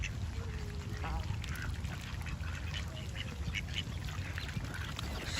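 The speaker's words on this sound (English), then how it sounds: "Look at the baby ducks." Ducklings out with their mother duck, giving soft quacks and peeping calls over a steady low outdoor rumble, with a voice speaking in places.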